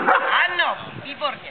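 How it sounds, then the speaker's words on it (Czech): A dog barks on command during guard-area training, short barks mixed in with a handler's praise and instructions spoken close by. "Štěkej, revír. Ještě pořád."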